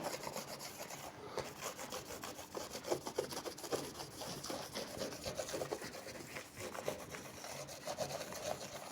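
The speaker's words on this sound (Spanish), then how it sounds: "con un paño humedecido en alcohol, pues vamos a limpiar el cobre" A cloth dampened with alcohol rubbed over the copper face of a circuit board, giving a steady, close scrubbing rasp with quick repeated strokes throughout.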